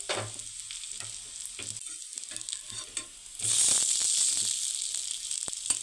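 A cabbage cutlet frying in oil in a pan, with scattered crackles and scraping at first, then a louder, denser hiss of oil bursting up and holding steady, close by and without speech.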